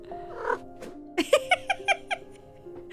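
A cat gives a run of short, chirpy little vocalizations, six or seven quick bright calls in a row, close and fairly loud, with softer cat sounds before them and faint room background.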